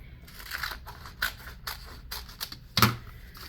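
PS GlitterFlex Ultra sheet is cut close up, several soft crisp snips and crinkles at an uneven pace, ending with one sharper clack, with no talking.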